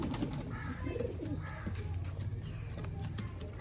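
Black-faced Sialkoti pigeons cooing nearby, low repeated throaty coos rolling in several bursts over a faint background murmur, close and fairly soft.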